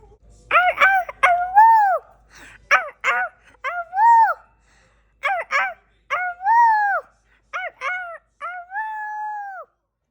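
A person's voice imitating a coyote howl: a series of rising and falling wavering yelps and howls, close and alone, ending in one long sustained howl.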